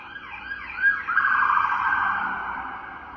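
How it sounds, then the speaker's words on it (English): An ambulance siren wails through a cycling electronic pattern, rising then fading slightly as it passes outside, with faint traffic underneath. "that was an ambulance driving by."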